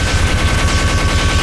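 Rapid, continuous automatic gunfire in Team Fortress 2 rattles loud and dense throughout, a steady stream of shots with no pauses.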